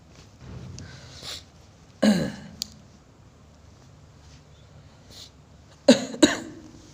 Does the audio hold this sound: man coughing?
yes